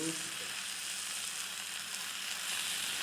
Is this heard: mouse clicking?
no